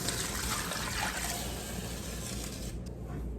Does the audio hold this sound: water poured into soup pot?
yes